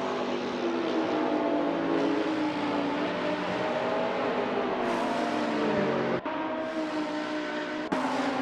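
Two Ferrari GT3 race cars battle down the straight at Virginia International Raceway in a sim-racing game, with sustained loud engine drone and shifting harmonic pitch as they run side by side, broken by two sharp gear-change dips.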